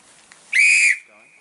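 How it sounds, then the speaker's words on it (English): A plastic whistle sounds one loud, steady high note for about half a second, then a fainter sustained tone lingers briefly; no talking. "You've got a plastic whistle,"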